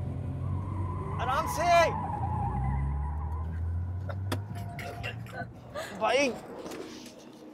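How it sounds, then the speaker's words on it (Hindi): A car's engine drones steadily inside the cabin while it is driven fast, with a couple of brief tire or wind swells, as several people talk over it. "एक गाड़ी है, कोई हवाई जहाज नहीं जिसको तुम लोग 150 की स्पीड से चला रहे हो।"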